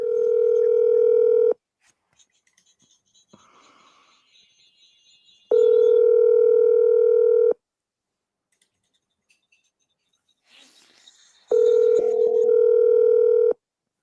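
A telephone ring-back tone sounds three times over a speakerphone, each burst lasting about two seconds with long silent gaps between, and faint rustling and handling noise fills the pauses.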